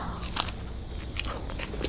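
Crunchy bites into Taco Bell rolled chicken tacos, close-up, with several crisp crackling bites spaced across a short stretch and a steady low background hiss.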